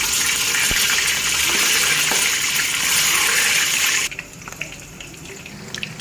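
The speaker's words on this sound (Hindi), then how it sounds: "मिर्च डाल के इसके अंदर एक एक करके हम करेंगे इसको ज़रा फ्राई।" Green chilies fry in hot oil with a loud, steady broadband sizzle for about four seconds, then the hiss abruptly drops to a much quieter crackle with scattered small pops.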